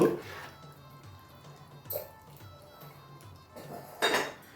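A metal lid is set onto a pot of mutton biryani, giving a few sharp clanks and clinks near the start and again near the end, with quieter kitchen handling in between.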